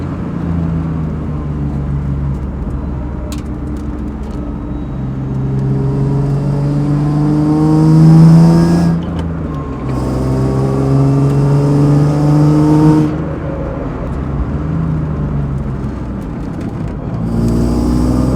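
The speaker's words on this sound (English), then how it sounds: "we're gonna warm up the car first, and then we're gonna do some street driving" A BMW E36 fitted with KW Clubsport coilovers warms up and drives on the street, its engine a loud, steady drone that rises in pitch through repeated accelerations and gear changes, heard close from the car with no talking.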